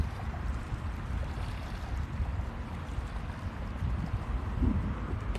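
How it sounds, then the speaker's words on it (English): Ocean waves at sunrise roll and wash in a steady, fairly loud rumble that carries through the whole stretch with only slight swells in level and no voices. "Can hear the crackle of the waves."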